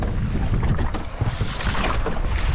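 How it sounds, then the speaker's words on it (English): Strong wind of about 20 mph roars across the microphone on a pedal kayak out on the water, a loud, steady gusting rush with low buffeting throughout and no talk. "I'm heading right straight into the wind. Probably 20 mile an hour wind."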